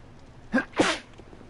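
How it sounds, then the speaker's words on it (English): A sudden sneeze with no build-up sounds close and loud: a short catch of breath, then one sharp explosive burst, with quiet background around it. "That was like one of those sudden sneezes where there wasn't any like build up."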